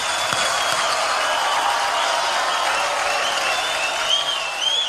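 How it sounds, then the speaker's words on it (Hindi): Audience applause at an award show, a continuous wash of clapping heard from a distance, even and moderately loud for the whole stretch. "एक बार जोरदार तालियां पूरे"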